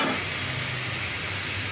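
Fish sizzles hard in hot oil while a spice paste cooks down beside it in the pan, a loud unbroken close-up frying hiss with no voices.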